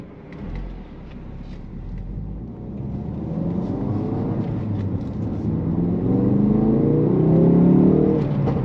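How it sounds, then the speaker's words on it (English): A Ford Focus RS hot hatch engine drones steadily and climbs in revs while driving, heard from inside the car with road rumble, faint sharp ticks hinting at small exhaust pops. "I don't know if you can hear the little pop out of the exhaust as well, but it just sounds so good."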